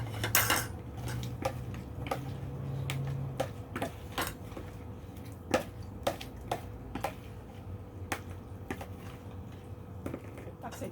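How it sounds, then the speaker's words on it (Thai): Metal utensils scrape and clink against dishes as food is scooped into a bowl, a steady run of sharp ticks and taps at close range, with occasional soft voices in the background. "ตักใส่ถ้วยบัดนี้"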